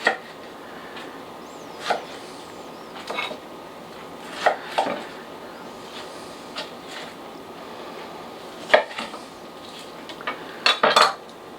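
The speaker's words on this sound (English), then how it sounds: "I'm going to take these onions, let me cut them a little bit so they'll blend up a little better" Onions being cut with a knife on a board while prepping a grilled salsa, giving scattered sharp taps and knocks, close up and irregular, with quiet pauses between cuts and no talking.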